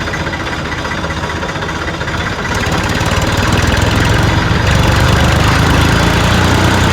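A loud tractor engine runs steadily nearby at a farm pump site, with a low, throbbing rumble that grows slightly stronger after a couple of seconds.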